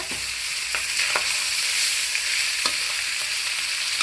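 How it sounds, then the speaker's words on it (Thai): Fried eggplant is stir-fried with seasoning powder and sugar in a hot pan. A steady, close sizzle runs throughout, with a few sharp scrapes and clacks of the utensil. "ก็ใส่มะเขือพระเอกของเราลงไปเลยค่ะมะเขือที่เราทอดไว้นะคะ"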